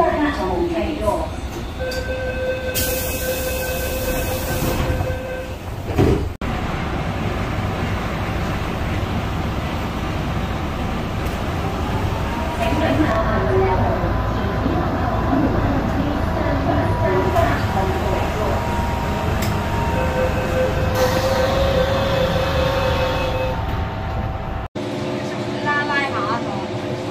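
A Hong Kong MTR train at a platform sounds its door-closing warning, a series of electronic beeping tones over loud train rumble and station noise, with recorded announcements spoken in between.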